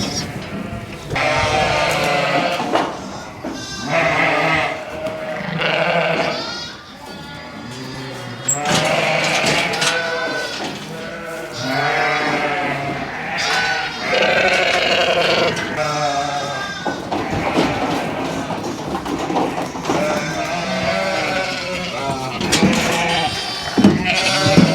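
Sheep and lambs bleating at a farm during lambing season, many loud, close calls overlapping almost nonstop, high lamb cries mixed with deeper ewe bleats and some faint thuds and clatter underneath.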